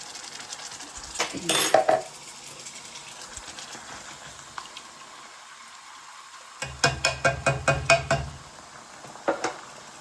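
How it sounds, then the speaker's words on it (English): Canned tomatoes tip into a home cooking pot with a few clattering knocks, then a run of rapid metallic taps and scrapes as the cans empty, with a faint sizzle from browning food underneath. "And then I'll add 2 cans of tomatoes."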